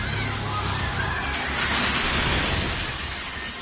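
Glass shatters and breaks as a landslide of mud and rock crashes into homes and shops, a dense, loud wash of crashing debris and splintering glass sustained throughout with a faint murmur of voices beneath.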